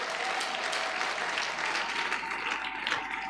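A church congregation applauds and acclaims the Lord, a dense, steady wash of clapping with some cheering voices mixed in, sustained at even loudness throughout.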